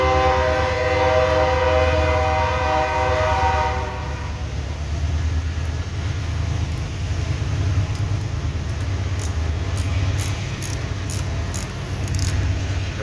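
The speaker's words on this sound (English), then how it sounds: "there goes another train" A train rolls past nearby, a steady low rumble with a horn sounding at first, then continuous wheel noise and rhythmic clicking toward the end, loud and unbroken, with no voices.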